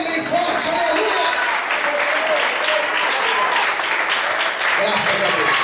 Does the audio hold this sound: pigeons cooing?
no